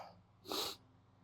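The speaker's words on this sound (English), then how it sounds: "I just want to sneeze." A single sharp, hissing sneeze from a man, close and brief after a quiet breathy lead-in.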